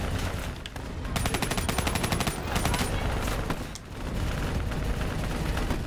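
Rapid automatic gunfire rattles in sustained bursts while players fire on a VTOL aircraft during a Black Ops 3 campaign mission. The shooting is loud and continuous, with a brief pause midway, and excited voices talk over it.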